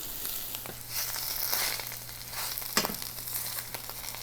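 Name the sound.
chanterelle mushrooms frying in a pan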